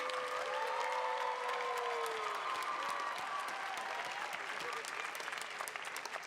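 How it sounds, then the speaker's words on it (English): Sustained audience applause at a university graduation and hooding ceremony, clapping dense and steady throughout with faint whoops and cheers mixed in, fading slightly toward the end. "Please join me in a round of applause for the graduates of the Master of Entertainment"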